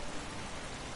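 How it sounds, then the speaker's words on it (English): Heavy rain falls during a race in the racing game Project CARS, a steady, dense hiss of broadband noise that is fairly faint and unbroken. "the rain is still falling harder and harder, heavier and heavier"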